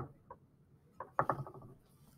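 A pulley hooked onto a metal laboratory stand gives a few light clicks, then a short cluster of rattling mechanical knocks, close and fairly quiet, with no voices.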